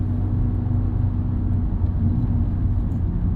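A 2013 Audi TT RS five-cylinder engine idles close by with a steady, deep, slightly uneven rumble and a faint whir, continuous throughout with no voices.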